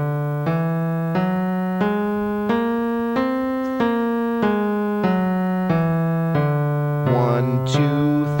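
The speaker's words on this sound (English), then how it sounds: "a whole tone scale is all whole steps" A whole tone scale played on a sustained-tone instrument, about eleven evenly spaced notes in a steady rising and falling sequence, clear and close, with a brief jumble at the end.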